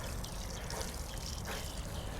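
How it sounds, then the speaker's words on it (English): Water trickles and splashes softly onto the soil of a newly planted centipede grass plug, a faint, continuous pour with no talking. "Don't forget to water it in."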